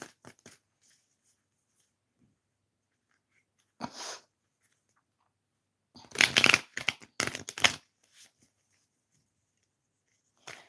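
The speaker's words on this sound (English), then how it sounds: "let's shuffle this for Haatt" Tarot cards shuffled during a live reading, heard as a few short papery riffles and taps, with one brief burst near four seconds and a denser clatter of shuffling in the middle, otherwise quiet and close.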